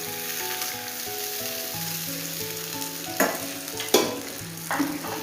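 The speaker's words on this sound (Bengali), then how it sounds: "এবারে সবজিগুলো অ্যাড করে দিচ্ছি" Vegetables sizzle in the oily, spicy masala of a fish curry, a steady frying hiss broken by a few louder stirring scrapes near the end, with soft tonal music underneath.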